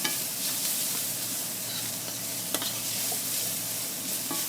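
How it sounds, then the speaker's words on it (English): Garlic sautés in a pan, a steady soft sizzle with occasional stirring scrapes and small crackles, close and fairly quiet, no voices. "You only want to cook garlic for about 1 minute, just so that the oils begin to release."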